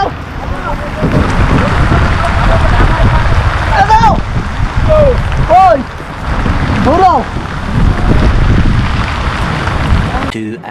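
Rain at Kuakata beach hisses steadily with wind buffeting the microphone, while people talk close by over the constant wash.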